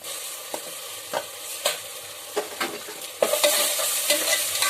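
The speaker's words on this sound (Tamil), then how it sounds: "இஞ்சி பூண்டு பேஸ்ட் போட்டுட்டு நல்லா பச்சை வாசனை போற வரைக்கும் வதங்கட்டும்." Ginger garlic paste frying in hot oil while being stirred in a pan: a constant sizzle broken by repeated spatula scrapes, with the frying growing louder and brighter toward the end.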